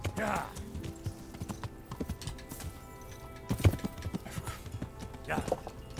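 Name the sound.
horse hooves clopping in video game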